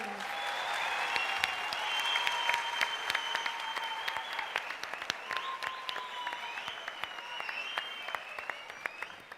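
A crowd applauds steadily for several seconds, dense clapping with a few sharper claps standing out.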